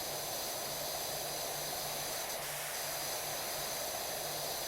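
A pressure washer sprays continuously in the PowerWash Simulator video game, a steady broadband hiss with a faint pulsing low hum underneath, uninterrupted and moderately loud.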